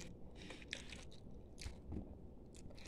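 Crisp bites and crunches into a crunchy fried turon banana roll made with saba bananas, several close crackling bursts over faint background noise, fairly quiet overall.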